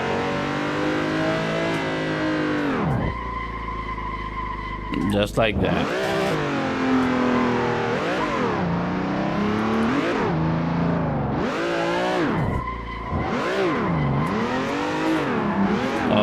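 A race car in the Assetto Corsa driving game revs hard and drifts, engine pitch sweeping up and down through repeated throttle bursts with brief lifts, while someone talks over it.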